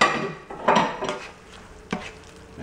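A utensil stirs parsley into boiling white clam sauce in a metal pot, giving a few scraping clinks and knocks against the pot with soft bubbling between them.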